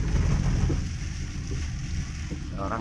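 Rain heard from inside a moving vehicle on a rainy road trip, a dense, even wash of patter and hiss over a low rumble, with faint voices in the cabin.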